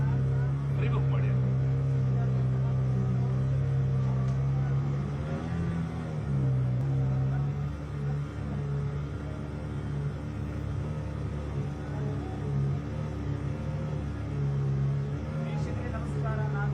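A motorboat engine drones loud and steady on a river crossing toward the Triveni Sangam confluence of the Ganga and Yamuna during the 2025 Maha Kumbh Mela, its low hum unbroken while people talk nearby.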